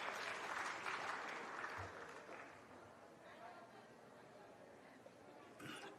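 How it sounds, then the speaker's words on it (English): Applause from the audience at a science festival award felicitation ceremony, loudest at the start and fading into a steady patter with crowd chatter mixed in. "Give them applause."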